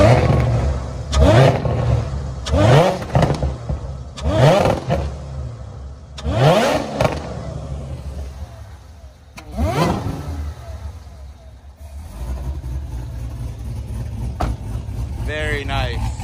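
Cammed Corvette ZR1 engine, revved hard in a series of about six sharp blips that rise and fall over a loping idle, loud and nearby, with a person speaking briefly in between.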